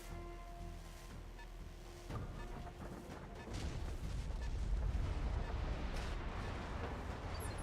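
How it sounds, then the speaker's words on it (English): Enemy vehicles fire weapons in BattleTech, with booming, rumbling blasts and crashes that build from sparse hits into a dense, heavy barrage partway through, all at a distance under a game soundtrack. "I think they're shooting at us, but they can't hit us."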